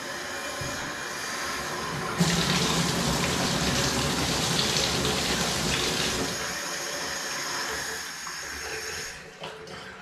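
Water running into a sink where freshly painted ceilings are being cleaned up, a steady broadband rush that swells louder after a couple of seconds, holds, then eases back toward a softer flow with no talking.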